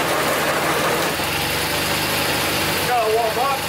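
A large snow thrower engine idles steadily while warming up, smoking near the belts and running poorly, a loud, close, continuous rumble with a brief voice near the end.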